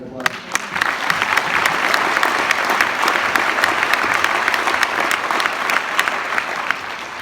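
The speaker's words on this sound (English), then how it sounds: "And I think he deserves a round of applause" Loud, sustained applause from a crowd at a send-off for a state-tournament high school hockey team, dense clapping with crisp individual claps standing out, a few voices faintly mixed in.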